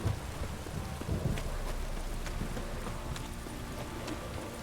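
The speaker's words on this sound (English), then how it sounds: "This downpour's a bastard" Heavy rain pours steadily in the video game Witcher 3, a dense, continuous hiss of drops on surfaces with a low rumble and a few scattered sharper splashes, no voices heard.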